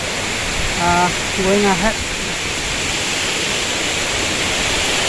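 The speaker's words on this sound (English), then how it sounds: "you can see the waterfall" Darengching Waterfall in Meghalaya's West Garo Hills, a steady broadband rush of falling water filling the whole stretch, with a voice briefly talking over it near the start.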